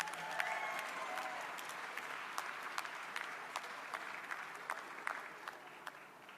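Applause for graduates at a university commencement fills a large hall, a broad wash of clapping with sharp individual claps standing out, steady and then gradually thinning, heard from some distance.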